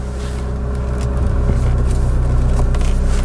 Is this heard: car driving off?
yes